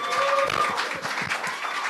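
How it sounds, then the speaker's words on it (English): An audience claps steadily in a room, a dense patter of hands held at an even level throughout, with no voices. "please let's give him a round of applause"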